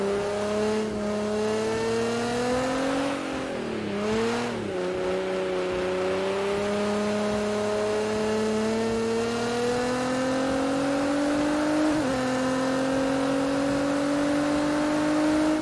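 A Nissan GT-R Nismo with a drift setup in the Project Cars 2 game drives on snow, its engine droning loud and close with a steady rising whine, a quick dip and re-rev midway and a gear change later.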